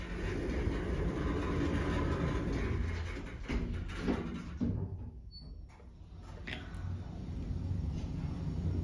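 A shop lift at a DFS furniture store in a retail park travelling upward, giving a steady, fairly loud mechanical rumble and whir throughout, with a brief quieter dip midway and a few clunks.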